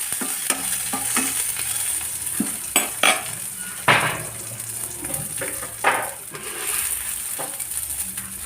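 Coriander thokku ingredients dry-roasting in a pan while a spoon stirs and scrapes them, with soft sizzling and repeated close scraping and clinking strokes.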